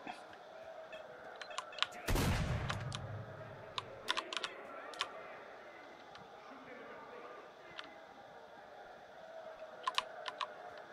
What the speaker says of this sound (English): You can hear the keyboard click? Yep. I use a mechanical keyboard, so it's a little on the loud side.